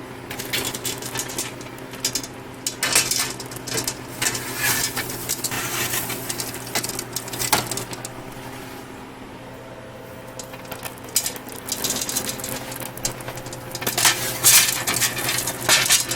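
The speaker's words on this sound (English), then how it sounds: "load the trays into the freeze dryer" Metal trays of Lemonheads candy slide into a Harvest Right Version 6 freeze dryer, making irregular clanks, scrapes and rattles of metal on metal, close by and spread over about sixteen seconds.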